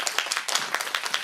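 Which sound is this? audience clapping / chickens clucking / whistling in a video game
audience clapping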